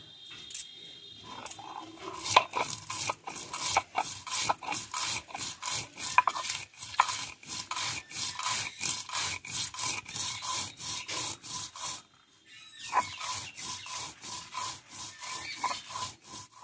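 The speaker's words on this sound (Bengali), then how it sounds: "এটা আমি শিলনোড়ায় বেটে নেব। অল্প একটু জল দিয়ে আমি বেটে নেব।" Spices with white cumin seeds and green chillies ground into a wet paste on a shil-nora grinding stone, a steady run of rhythmic, close scraping strokes that pauses briefly near the end before resuming, with no talking.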